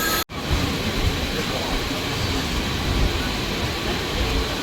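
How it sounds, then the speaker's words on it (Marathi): A MEMU passenger train pulls out of Panvel terminus, producing a steady, loud broadband rumble and rolling roar heard from on board, after a brief dropout at the very start. "तर आता आपली ट्रेन निघालेली आहे."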